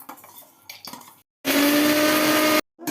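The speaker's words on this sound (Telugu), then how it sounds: "పోపు కదా ఇది వేసేస్తున్నాను మిక్సీలో." A kitchen mixer grinder whirs loudly through a short burst, grinding coriander stem chutney with tamarind and jaggery, after a few clinks from loading the jar, then cuts off abruptly.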